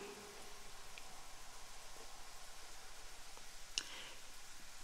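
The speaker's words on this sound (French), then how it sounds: "Je ne dis rien, écoutez la pluie, c'est relaxant, j'adore." Gentle rain falls steadily outdoors as a faint, even hiss with a few soft scattered drips and one small sharp tap.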